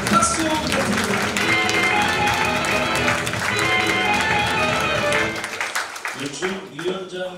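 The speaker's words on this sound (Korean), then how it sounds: "박수 부탁드립니다" An audience at a middle school evening event applauds school committee members as they stand, with dense clapping and some cheering that thin out toward the end while a voice speaks.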